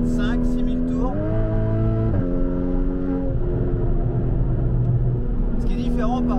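A Porsche 981 Cayman 2.7 engine revs up through the gears to 5,000–6,000 rpm, rising in pitch and dropping at each shift, loud and close with a voice talking over it.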